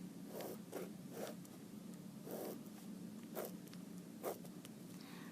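Quiet strokes of a pen or marker on a board come in short, separate bursts with brief pauses between them, some louder than others, set against a steady low background hum.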